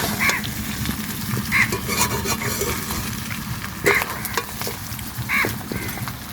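Duck meat that has released its oil sizzles and fries in a pot as water goes in, a steady close hiss with scraping stirs and a few brief bright clinks of utensils against the pot.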